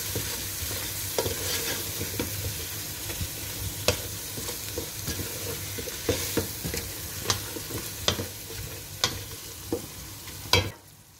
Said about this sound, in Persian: یه قاشق سرخالی ربم اضافه میکنیم و با زردچوبه تفت میدیم تا خوش رنگ بشه